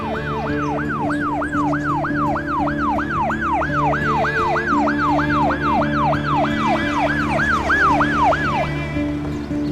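A loud ambulance siren wails in a fast, repeating rising-and-falling pattern, close and continuous, then cuts out near the end over a low engine hum.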